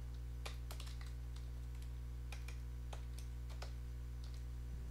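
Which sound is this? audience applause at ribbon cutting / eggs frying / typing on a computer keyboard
typing on a computer keyboard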